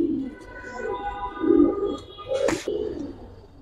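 Giribaz and colored pigeons in a loft give soft, rolling coos that rise and fall over a few seconds, with a brief sharp rustle near the end.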